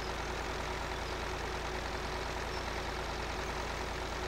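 An old tractor in Farming Simulator 2013 idles with a steady, low, chugging rumble that stays even and continuous throughout, with no talking over it.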